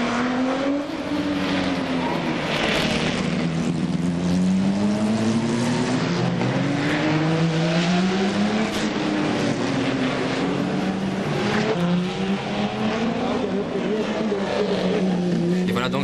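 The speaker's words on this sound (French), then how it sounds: "la Maserati 300S roule à un rythme un peu moins soutenu qu'en début de course" A Maserati 300S sports racing car runs at the Monaco Historic Grand Prix, its engine note rising and falling in repeated sweeps as it laps at a slightly eased pace, loud and continuous beneath steady commentary.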